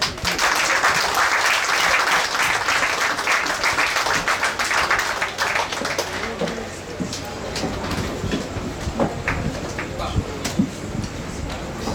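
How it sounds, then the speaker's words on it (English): An audience claps at a book fair literary evening, a dense sustained applause that fades after about six seconds into scattered, thinning claps with faint murmuring. "You guys clapping like you're sleeping."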